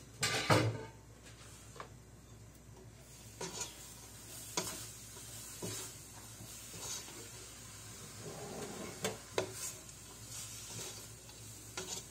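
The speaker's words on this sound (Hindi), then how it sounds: "गाजर और चुकंदर। इसको हम थोड़ा सा फ्राई करेंगे।" Carrots and beetroot frying in a pan for Russian borscht, a low steady sizzle broken by several sharp scrapes and knocks of a spoon stirring, with no voices.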